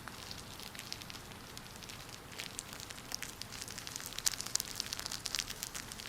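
Soft, quiet patter of falling rain, a dense crackle of small drops that grows slightly busier toward the end, with no voices.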